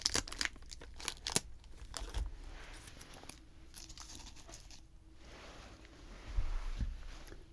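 A crinkly plastic cheese cracker snack package is cut open close up, with sharp snips and rustling, crumpling wrapper noises in quick irregular bursts, then softer handling and a few louder crinkles near the end.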